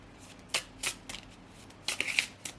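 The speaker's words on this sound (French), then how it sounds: "Nous allons couper les cartes et nous allons voir." A deck of oracle cards is shuffled and cut in a few quick riffling bursts, close and crisp, with short pauses between them and no voices.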